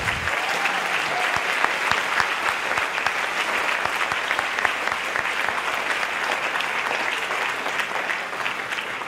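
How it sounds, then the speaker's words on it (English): Sustained, even applause from a large audience at an international school graduation ceremony, many hands clapping steadily for about nine seconds at a constant moderate level. "please give them a huge round of applause for their efforts"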